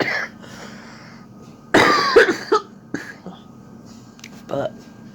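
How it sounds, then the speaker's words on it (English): A person coughing while unwell, a few harsh close coughs and throat-clearing sounds clustered in the middle, with quiet breathy sounds around them. "She says I'm just gonna cough."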